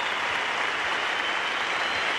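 Cricket crowd at a Pakistan versus Australia Test match in 1983/84 rising to applaud Greg Chappell, a steady wash of distant clapping and crowd noise throughout with no talking.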